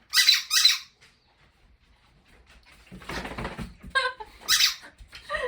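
A rubber dog toy squeaks twice up front, then after a quiet pause dogs pad and scuffle near it while a few more sharp squeaks ring out.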